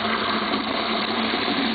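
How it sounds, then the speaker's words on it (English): Ordinary tap water gushes steadily into a hydrogen generator container, a loud continuous rushing pour. "It's ordinary tap water we're putting in here."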